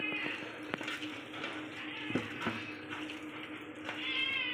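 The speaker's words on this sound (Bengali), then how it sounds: "এ বিল্লি ম্যাও ম্যাও কেন করছিস?" A cat in a home kitchen meows several times, close and moderately loud, with a few short clatters and faint background noise between the calls.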